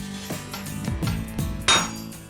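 A blacksmith hammers metal in a small forge, with several sharp metallic strikes landing in an uneven rhythm, close and fairly loud, and one brighter ringing clang near the end.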